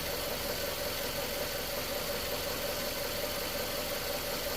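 A Nissan Juke engine held at roughly 2,000 RPM, a steady close mechanical drone with constant level throughout and no talk.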